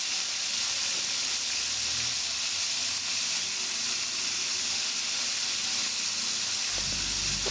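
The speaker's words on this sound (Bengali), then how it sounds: "এবার একটু হলুদ, লবণ আর রসুন দিয়ে মাছগুলো ভেজে নিচ্ছি।" Shing fish frying in a pan with turmeric, salt and garlic, potatoes alongside: a constant, fairly loud hissing sizzle with no talk, steady throughout, with a faint clatter at the very end.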